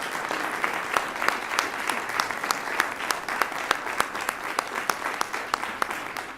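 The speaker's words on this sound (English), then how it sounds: "Let's give a round of applause to him again." A city council meeting audience applauds steadily, with many individual claps clearly audible and a faint murmur of voices underneath.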